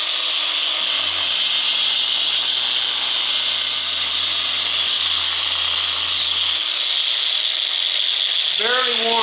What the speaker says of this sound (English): as I'm polishing the surface of the material